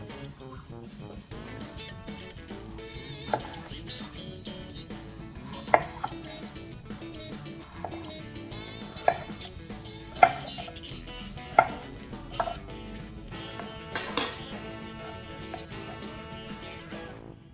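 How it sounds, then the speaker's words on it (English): A knife chops through butternut squash on a cutting board, cubing it with a steady series of close, sharp knocks and a few louder thuds against a busy kitchen background. "both of the sets need to be cubed as the first step, so I'm going to cube the whole thing"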